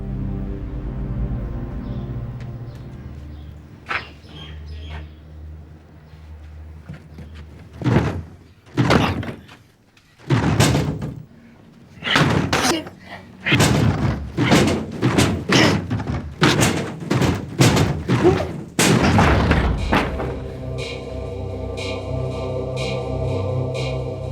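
A door is forced with a rapid series of heavy, loud thuds and bangs in the middle of the stretch, after a steady low drone, with a resonant hum returning as the blows stop.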